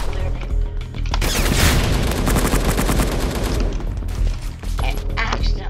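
Gunfire and a grenade explosion in the mobile shooter Pixel Strike 3D, rapid crackling bursts building into a dense, booming blast that swells and then trails off, with brief game effects after.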